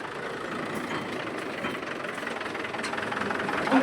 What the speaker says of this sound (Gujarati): ચાલો બીજું ટ્રેક્ટર પણ નીકળી ગયું છે હવે